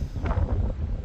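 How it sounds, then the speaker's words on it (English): Strong gusting wind ahead of an approaching cyclone near Maitland, New South Wales, buffeting the microphone with a loud, low rumble and a couple of brief surges, with no talking. "It is insanely windy and on and off rain because the cyclone is coming"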